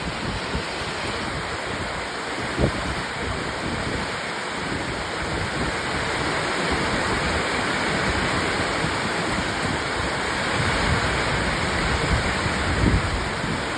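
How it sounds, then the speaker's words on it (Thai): Heavy, constant rain roars steadily in Trakan Phuet Phon district, Thailand, a dense wash of noise with no pauses and no voices. "พอดีฝนตก"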